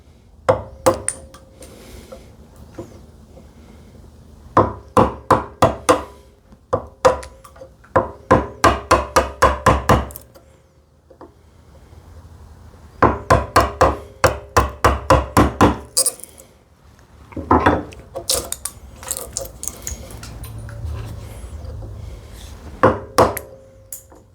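Bursts of rapid, sharp hand-tool chopping strikes on wood while cutting a through dovetail, a few seconds each, separated by short pauses. Close and loud, no voices.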